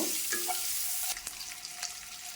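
Boiled eggs with salt and turmeric frying in a pan, a steady close hiss of sizzling oil broken by a few sharp clicks of stirring toward the end, with no voices.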